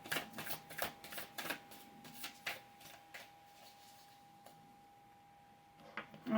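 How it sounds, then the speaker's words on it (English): Tarot cards shuffled by hand, a quick run of crisp riffling bursts that thin out into sparse soft flicks before a final bump of handling, close and alone over a faint steady electrical hum. "I'm going to shuffle one more time."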